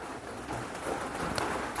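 Rain falling on a Thai house build site while PVC gutters are being installed from scaffolding, a steady soft hiss of drops on surfaces, fairly quiet and continuous with no talk.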